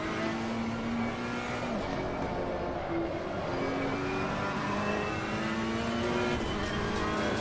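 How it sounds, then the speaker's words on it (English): A GT3 race car in AC Competizione spins its wheels off the start, the engine revving hard in a sustained, loud whine that rises and dips without letup. "love spinning those wheels off the start"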